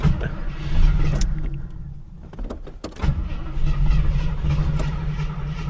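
An old car on its first drive in over twenty years, its engine running rough with a loud, steady rumble that dips briefly midway through and then surges back, with no voices.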